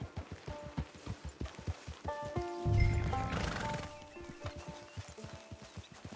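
A horse in Red Dead Redemption 2 clip-clops at a steady trot, hooves close and rhythmic, then lets out a loud whinny midway before the hoofbeats carry on under soft rain-like ambience.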